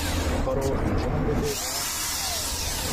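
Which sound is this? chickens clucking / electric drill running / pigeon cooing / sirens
electric drill running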